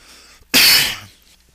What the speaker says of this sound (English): oh, sorry, I had a cough there.